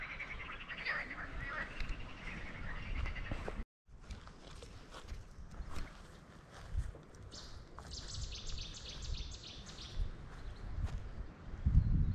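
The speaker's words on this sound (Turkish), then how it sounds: "Kuşların sesine bakıyorum." Faint bird calls and chirps scattered through an outdoor scene in Bursa, Turkey, with footsteps shuffling nearby on muddy ground and occasional quiet voices in the background.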